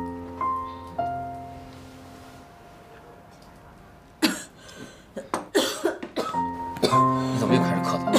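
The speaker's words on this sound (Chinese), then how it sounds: "你怎么又开始咳嗽了？" A person in a suspense crime drama breaks into a fit of coughing, several rough coughs in quick succession after a quiet stretch of soft music, close and clear.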